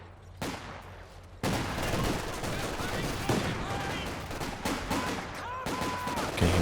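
Battle gunfire in a strategy video game, with a 222 armored car firing on an infantry squad: a dense, continuous mix of machine-gun bursts and scattered shots, moderately loud throughout and not broken by talk.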